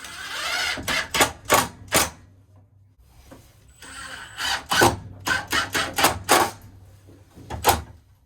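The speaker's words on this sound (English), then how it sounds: "Place my box here and then screw it to the wall." A screw gun drives screws to mount an electrical box on a shed wall: a series of sharp, loud bursts in two clusters, each a short whine of the driver, close up with no talking.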